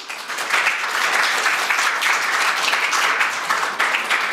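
Sustained applause from an audience at an academic award ceremony in a hall, dense and steady for the whole stretch with no voices over it.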